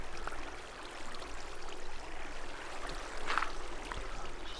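Flowing water in a Minecraft world, a steady soft rushing and gurgling stream that stays even and close, with a brief louder splash partway through and no voices.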